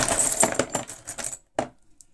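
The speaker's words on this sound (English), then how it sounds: "bought this box of old car keys and keys in general." A box of old vintage car keys, including RAC keys, jangles and clinks close up in a rapid metallic flurry, then a pause and one last sharp clink.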